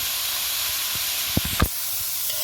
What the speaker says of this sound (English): You have to let the carrots fry for a bit